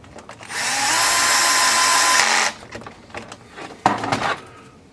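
A handheld power drill whirs for about two seconds, driving a screw into an Axial Yeti XL RC model. Close clicks and clatter of parts being handled follow.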